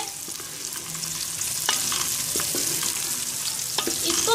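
Three large onions frying in a cup of oil, a steady crackling sizzle with occasional stirring clinks and scrapes of a spoon, close and continuous throughout.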